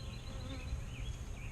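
Honey bees buzz steadily at an open hive during a check of queen cells, a dense continuous drone close by with no voices over it.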